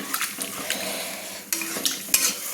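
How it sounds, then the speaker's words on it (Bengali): Chicken Changezi being stirred with a spatula after masala water is added, producing close, irregular metallic scrapes and clanks against the pan over a light sizzle. "আমি ভালো করে খুন্তি দিয়ে নেড়ে নিচ্ছি, মশলা জলটা অ্যাড করে আমি খুন্তি দিয়ে নেড়ে নিচ্ছি।"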